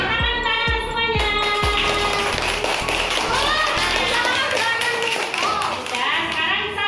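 Children in a classroom clap their hands in a quick rhythmic burst of sharp taps for about two seconds, followed by a mix of young voices talking.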